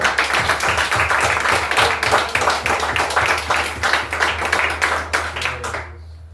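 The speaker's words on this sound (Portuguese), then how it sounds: "Aplauda o Senhor." A church congregation claps rhythmically at a worship service, a fairly steady beat of many hands over a low hum, fading out abruptly near the end.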